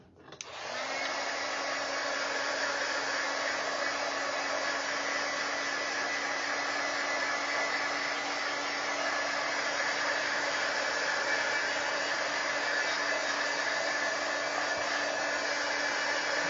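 A heat tool drying Distress Oxide inks switches on and then runs as a loud, steady blowing whoosh close by, holding unbroken and alone.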